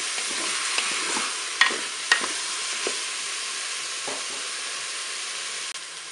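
Beef meatballs browning in a Cookeo multicooker, with a steady, loud sizzle and a few sharp scrapes and taps of stirring, no voices.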